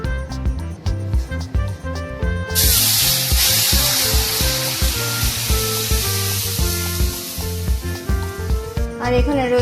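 Vegetarian boiled moong dal is poured into hot oil for tempering and erupts into a loud, sustained sizzle and spray that runs steadily for about seven seconds, with clinking utensils before and after.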